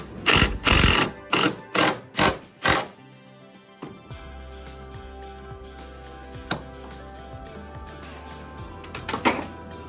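One-handed clamps are ratcheted tight in a workshop with a quick run of five loud clacking pumps, followed by quieter mechanical rattles, a few sharp ticks and a louder click near the end.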